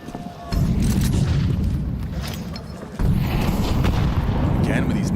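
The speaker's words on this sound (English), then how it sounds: "Again with these nades, they are chunking them." Grenade and molotov explosions in the Counter-Strike video game, heard as two loud, sustained booming blasts with heavy low rumble, the second starting about midway, while a commentator talks over them.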